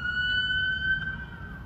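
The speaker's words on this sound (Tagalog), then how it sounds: "Yan, may ambulansya." A wailing ambulance siren sounds at a distance, steady tones drifting faintly over low background rumble of a night ride.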